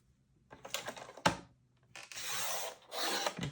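Card stock being cut for a handmade back-to-school card: a few light taps and a sharp snap, then two long, steady scraping strokes of a paper trimmer blade, close and quiet, with no voice.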